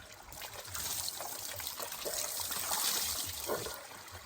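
Water trickles and pours steadily out of a swimming pool, a soft, continuous dribbling stream heard fairly close with gentle splashing variations.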